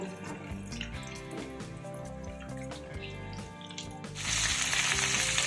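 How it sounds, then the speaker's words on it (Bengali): Chopped Malabar spinach stems with turmeric and salt frying in oil in a pan for a vegetarian curry, with a close sizzle under clattering stirring and a louder hissing surge near the end. "সবজিগুলোকে তেলে বেশ খানিক্ষণ নাড়িয়ে চাড়িয়ে ভেজে নিতে হবে"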